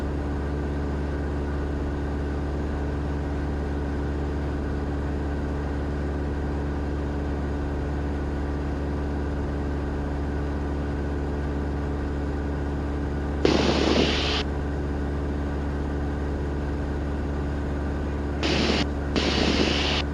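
Light airplane engine droning steadily in cruise flight at 6,500 feet, a constant loud hum heard from the cockpit, with brief bursts of headset radio static near the end.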